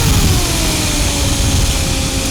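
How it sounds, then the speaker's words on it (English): A light aircraft engine is throttled back to idle during a flight review, giving a steady broadband drone whose tone slowly falls in pitch, loud and continuous with no talk over it. "bring the power back to idle"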